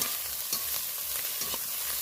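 Prawns frying in oil in a pan for a banana flower curry, a steady close sizzle with a few soft stirring scrapes and no voices.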